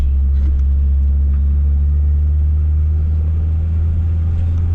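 Deep, steady engine rumble from a tuned GSR car pulling into a car wash, a constant low drone close by with little change.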